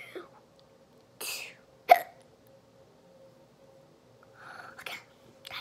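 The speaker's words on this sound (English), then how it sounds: "that's enough hiccups" Several sharp hiccups from a person, spaced irregularly at close range over a steady faint hum, with no speech.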